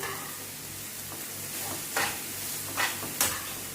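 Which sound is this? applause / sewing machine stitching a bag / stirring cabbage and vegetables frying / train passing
stirring cabbage and vegetables frying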